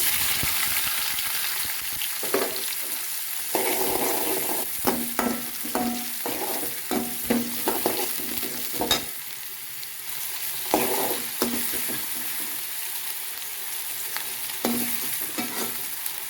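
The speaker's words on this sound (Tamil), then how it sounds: "வெங்காயம் நல்லா வதங்கட்டும்." Onions sautéing in a pan with dried chillies for chicken gravy, a steady close sizzle broken by repeated scraping stirs of a spoon against the pan.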